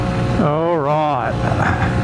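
A Honda CB125F motorcycle engine rises in pitch as it accelerates, then drops back during a gear change, loud and close with wind noise from riding.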